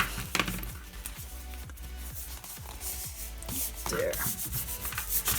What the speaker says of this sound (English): Rub it down so it sticks.